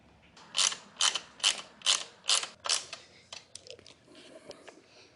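A hand ratchet clicks in six loud, evenly spaced bursts while backing out bolts on a 2021-2022 Aprilia Tuono Factory V4 motorcycle, followed by fainter, irregular mechanical clicks.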